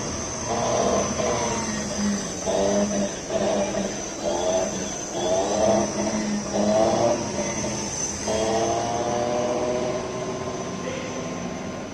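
A Kia Soul electric car's motor and reduction gear, which has a known fault needing repair, gives off a steady mechanical rumble with a persistent high whine and repeated pulsing surges, heard close and without talk.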